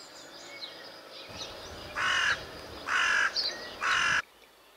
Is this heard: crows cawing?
yes